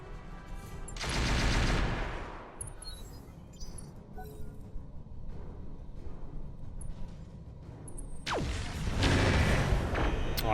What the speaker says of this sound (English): I'm gonna fire on him.